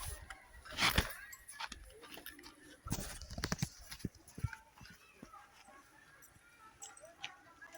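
Scattered horse hoof clops on hard ground, irregular and moderately close, with background voices and outdoor ambience near water in Calauan, Laguna.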